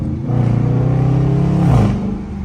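A Dodge Charger RT engine roars close by as it downshifts into second gear and pulls hard, a rising rev with a brief dip at the shift before climbing again.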